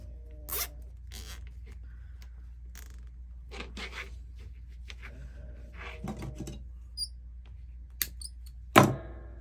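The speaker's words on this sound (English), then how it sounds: "And I want to attach this right over the other zip tie." A plastic zip tie is threaded through plastic mesh and ratcheted tight while making a daisy flower wall hanging, giving scattered short zipping rasps with one sharper, louder pull near the end; nobody speaks.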